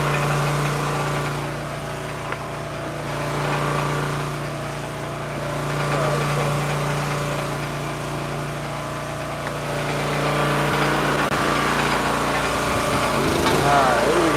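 A gas-powered log splitter engine runs at a steady, moderately loud drone that swells and eases slightly at times, with a voice talking over it.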